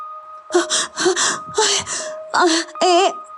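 A person pants heavily, out of breath after running, in about six loud, close, breathy gasps with a voiced edge, each separated by a brief pause.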